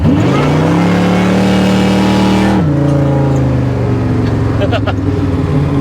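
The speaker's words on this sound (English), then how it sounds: "now it'll just blaze tires" A supercharged 1955 Chevrolet Nomad revs hard and holds a high, steady engine note while its tires spin, then the pitch drops sharply and settles into a lower, rough roar. The sound is loud and continuous throughout.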